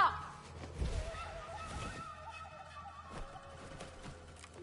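A bird in the video game God of War Ragnarok gives short honking, goose-like calls, with the loudest cry at the very start and fainter ones afterward over a quiet background.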